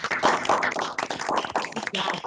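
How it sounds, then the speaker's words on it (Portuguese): Audience applause at a wine presentation, a dense crackle of many hands clapping steadily throughout, fairly close and continuous, with no one speaking over it. "Salva de palmas, antes de mais nada, para a Luciana"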